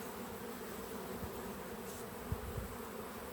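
Honeybees in an opened queenless hive give off a steady, close buzzing hum that holds evenly throughout, with a few soft knocks and a faint higher whine drifting over the drone.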